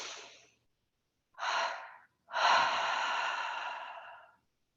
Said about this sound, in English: we're going to take a double inhale breath and a double exhale breath